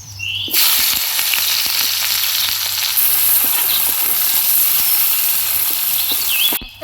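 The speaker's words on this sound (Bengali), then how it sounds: "ফোড়নটা ভাজা ভাজা হয়ে গেছে, এবার ওর মধ্যে দিয়ে দেবো পেঁয়াজ কুচি।" Chopped onion hitting hot mustard oil over a cumin and dried red chilli tempering, giving a loud, steady, close sizzle that starts abruptly and continues without a break.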